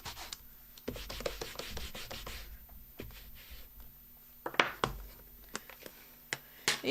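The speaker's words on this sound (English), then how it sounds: "Cleaning my stamps. Have you got yourself a Stampin' scrub?" Rubber stamps are scrubbed clean on a Stampin' scrub pad, giving soft, uneven rubbing and scraping strokes with several sharper taps and clicks toward the end, fairly quiet and close.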